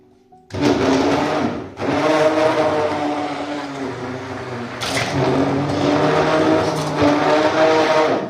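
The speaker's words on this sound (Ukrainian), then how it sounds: "Зараз беру блендер і довожу все до однорідної маси." A blender pulping soaked waste paper for papermaking runs loud and steady for several seconds after a brief quiet start, its whirring pitch shifting slightly as the contents churn.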